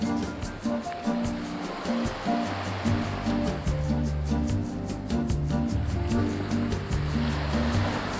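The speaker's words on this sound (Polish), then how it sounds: "pomiędzy Mauritiusem a Antarktydą, nie ma nic, tylko ocean." Indian Ocean surf off Mauritius washes in a steady, moderate roar of breaking waves, with low rumbling swells and no voices.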